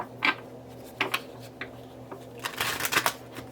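Botanical tarot cards are shuffled up close in short riffling bursts, several quick flutters and clicks spread unevenly, with no talking over them.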